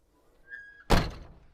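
An old Chevy car door swings shut with a single solid thunk, close and sharp after a brief faint whistle, then quiet.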